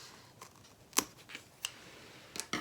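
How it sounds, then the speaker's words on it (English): Scissors trimming a zipper while a bucket bag is assembled, giving a few sharp, close snips spaced irregularly, with two quick cuts near the end. "Okay, so I am going to just trim the zipper so that it sits at the top here."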